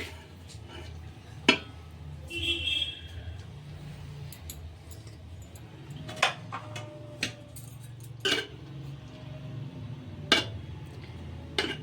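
A utensil stirring rice with ghee in a cooking pot, sharp metallic clinks and scrapes scattered irregularly over a low background rumble.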